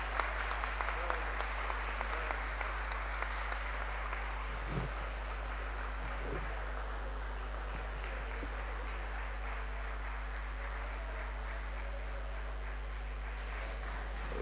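Applause from the audience at a Democratic Labour Party conference, a soft, diffuse wash of many hands heard from a distance over a steady low hum, fading gradually.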